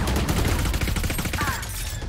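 Dense, rapid gunfire from a Valorant match crackles throughout, a continuous stream of close shots with no pauses and no speech.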